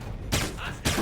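Turret gunfire in the Alpha Protocol video game: two loud, harsh bursts of rapid automatic fire, one after another with a short gap between them.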